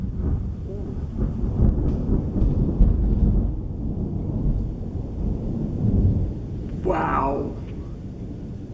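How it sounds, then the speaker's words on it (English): A deep, loud thunderclap rumbles through a thunderstorm with rain, rolling for several seconds, while a person reacts with brief speech. "he just heard that big loud thunder"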